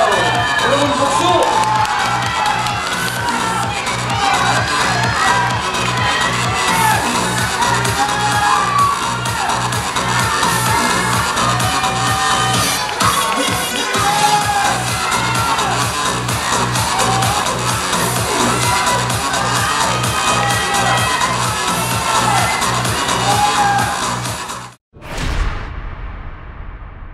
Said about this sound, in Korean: 정말 축하합니다. 여러분 박수.